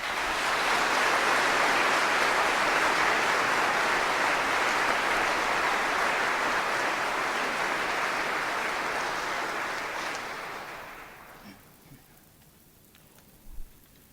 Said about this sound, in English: please join me in a round of applause for our newest American soldiers